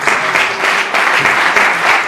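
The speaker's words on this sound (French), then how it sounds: "On applaudit bien fort." Audience applause at a Congo film award ceremony, loud, close and steady clapping throughout with gentle swells, no voices over it.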